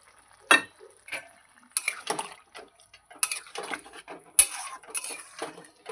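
A spoon scrapes and clinks against a pot while milk is stirred into a potato and paneer curry, giving irregular clicks and rattles at close range.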